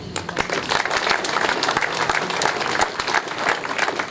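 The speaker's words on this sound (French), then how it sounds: "les mobiles faits par les élèves de l'école de Gaston Phébus et Notre-Dame que nous pouvons également applaudir" Audience applause fills a commemoration ceremony marking 80 years since a wartime martyrdom and the 25th anniversary of a resistance pavilion, steady dense clapping at moderate loudness with no talk over it.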